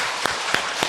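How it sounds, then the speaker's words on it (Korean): A church congregation applauds during an Easter Sunday morning service as children's and youth groups stand; a brief burst of clapping with a few distinct louder claps over a steady patter. "박수!"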